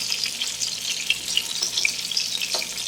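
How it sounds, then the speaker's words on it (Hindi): Meatballs fry in hot oil in a pan, a steady bright sizzle with small pops and crackles, close and continuous, no voices. "अब इसे अच्छी तरह से फ्राई कर लेंगे दोनों साइड से"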